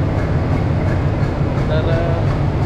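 A passenger train rumbling steadily, heard from aboard or alongside, with a constant low droning roar and faint background voices throughout the short stretch.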